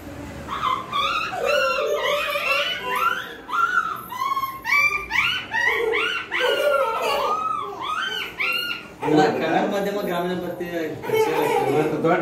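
A mimic's voice imitates a small dog with a rapid string of high yips, whines and whimpers, loud and close, repeating in uneven bursts.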